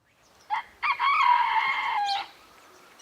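A rooster crows once close by, starting with two short clipped notes and then holding a long, loud, strained cock-a-doodle-doo for about a second and a half over quiet background.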